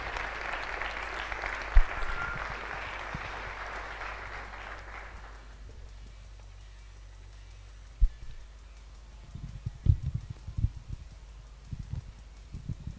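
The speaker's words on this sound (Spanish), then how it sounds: "Fuertísimo aplauso para ella." Loud, dense applause from an audience at a colloquium fills the first half and then fades out, leaving quiet room noise with a few scattered bumps and handling sounds.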